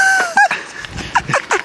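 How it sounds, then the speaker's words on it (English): Seabirds near the shore, with the species mentioned including Caspian terns, black oystercatchers and marbled godwits, give a burst of close, sharp, honking squawks and cries in quick succession. "Oh, no, birds."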